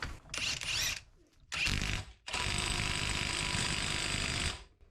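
A Metabo HPT half-inch impact wrench on full power in auto stop mode hammers a hub nut in three loud bursts, two short ones and then a longer steady run that cuts off abruptly near the end.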